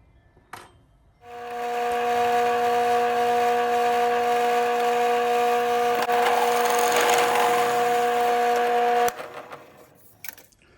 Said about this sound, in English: now I'm just going to take this to the drill press and drill that out